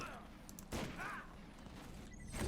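Gunfire in the Borderlands video game: a few sharp bursts of shots ring out amid busy game sound effects and clutter, fairly close, with no clear speech.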